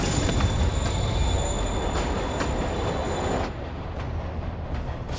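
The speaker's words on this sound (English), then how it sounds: "Train moving." A moving train in the Spider-Man PS4 video game gives a loud, continuous rail rumble with wheel squeal and hiss. The noise drops slightly partway through, and no one speaks.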